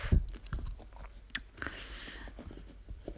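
Close, wet chewing and biting of food in short irregular bites, moderately loud with no talk.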